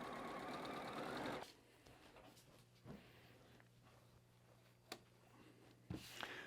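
A sewing machine chain piecing quilt fabric runs in a loud, steady whir for about a second and a half, then stops, leaving quiet handling noises and a few soft clicks.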